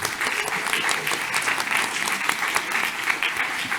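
A room of people claps for Giovanni, brisk and fairly close applause that stays steady for a few seconds with no talking over it.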